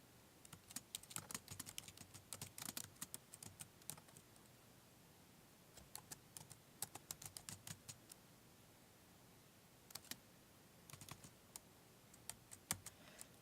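Typing on a computer keyboard, faint close key clicks in uneven bursts separated by short pauses, with quiet room hiss between them and no talking.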